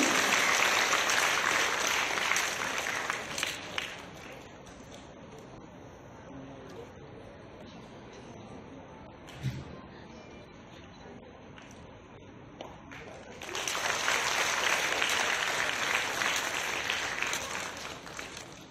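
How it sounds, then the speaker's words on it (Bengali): A crowd at a state-level Maharaja Bir Bikram award ceremony in Rabindra Bhawan bursts into loud applause, which fades to a lower murmur with scattered claps and then swells again into full, sustained clapping near the end. "আরো জোরে করতালি চাইছি।"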